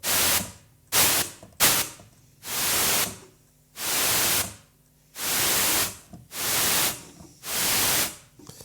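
Bursts of white noise from a Behringer Odyssey synthesizer switch on and off, a few short blasts followed by longer steady rushes of static, fairly loud and without voices.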